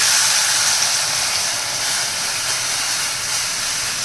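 Steady, loud hissing sizzle as buttermilk is poured into hot golden tempering for kadhi, continuous and even throughout with no talking.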